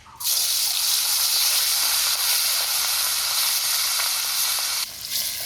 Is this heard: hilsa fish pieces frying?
yes